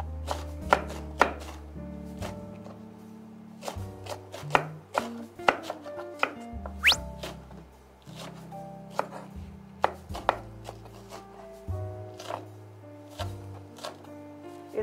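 A knife chops green onion on a cutting board, with repeated sharp knocks in irregular bursts, close and clear.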